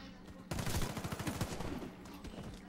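Rapid automatic gunfire from the Warface video game, a dense burst of shots that tapers into scattered rattling, with a commentator's voice underneath.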